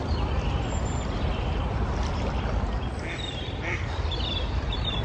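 A few scattered duck quacks sound over a steady background rush of the River Wey in winter and outdoor noise, moderately distant.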